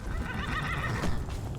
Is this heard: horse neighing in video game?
yes